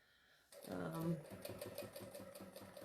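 Sewing machine stitching a seam on a tote bag made from jelly-roll fabric strips, starting after a brief pause with a steady rapid stitching rhythm that continues under a speaking voice.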